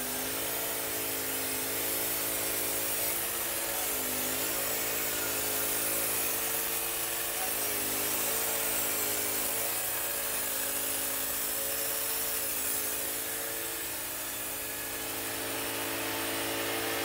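Wood-Mizer sawmill blade slicing through a log to cut wood cookies, a steady loud whining drone with a rough buzzing edge that holds throughout with slight pitch wavers as the cut proceeds.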